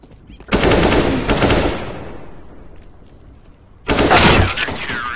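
Loud bursts of rapid automatic gunfire in a video game, one sustained volley that decays into a ringing tail, then a second burst starting abruptly near the end.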